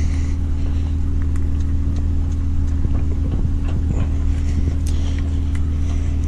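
A Polaris RZR XP 1000 side-by-side engine drones steadily and loudly nearby as it creeps up onto a truck, a constant low throb with faint clatter over it.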